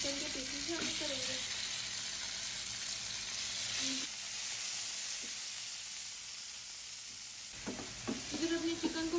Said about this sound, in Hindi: इधर अपने चिकन को 5 से 6 मिनट फ्राई करने के बाद